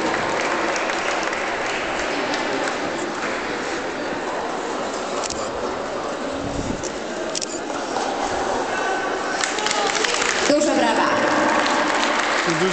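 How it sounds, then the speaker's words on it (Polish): Applause at a youth sports tournament medal ceremony, sustained clapping from a crowd running throughout, with voices and scattered clatter mixed in and a short swell of cheering late on. "Duże brawa."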